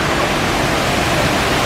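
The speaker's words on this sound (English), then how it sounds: "we're actually near the flowing water" The tall indoor waterfall at Jewel in Singapore's airport pours in a loud, unbroken rushing roar that fills the space, steady and close without speech.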